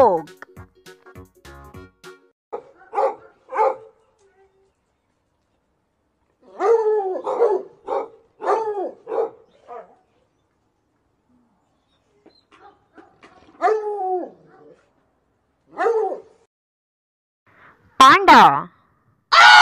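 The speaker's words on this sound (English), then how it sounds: "dog." Dog barking in short separate bursts of a few barks each, spread through the clip with quiet gaps between them, fairly close and clear with no talking over it.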